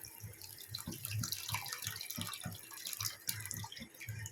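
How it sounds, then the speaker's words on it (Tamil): Soaked tamarind water pours into a pan for a hotel-style vathal kuzhambu, a steady liquid splashing and trickling with small irregular glugs, close and moderately loud, with no talking. "நம்ம புளி ஊற வச்சு கரைச்சி வச்சுருக்கோம் அதை சேர்த்துக்கிறேன்"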